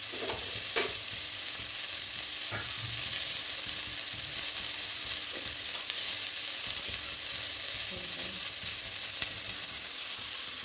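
Drumstick and potato pieces sauté in a pan for vegetable sambar, giving a steady close sizzle with occasional scraping stirs and soft clacks, no voices.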